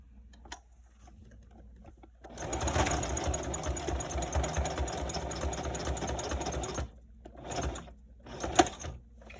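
Sewing machine stitching a cloth menstrual pad, a rapid mechanical whir of about four and a half seconds, then a few short bursts and clicks as it starts and stops.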